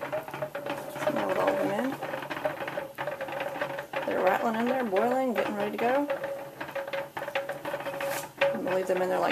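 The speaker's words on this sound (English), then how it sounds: "Now with all of them in, they're rattling in there, boiling, getting ready to go." Glass jars of dill pickles clink and rattle in a boiling water-bath canner, a steady busy clatter with bubbling underneath, while a person talks over it nearby.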